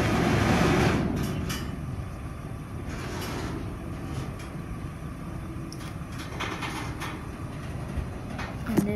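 Freight train pulling away from a station platform, a steady rumbling roar with metallic rail clatter and faint squeals throughout, loud and continuous with no talking.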